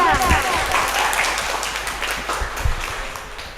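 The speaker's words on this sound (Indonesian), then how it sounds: "untuk Pak Irfan dan Bu Wahyu, tepuk tangan dulu dong." Audience applause at a school student council candidates' debate, a steady wash of many hands clapping throughout, fairly loud and continuous.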